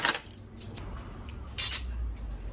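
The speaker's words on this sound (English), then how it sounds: "And my cutlery." Metal cutlery clinks and jangles in a few quick bursts, close up, with quiet pauses between the rattles.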